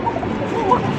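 Sirazi pigeons in a collection coo softly in a brief, continuous low murmur, heard close with no speech.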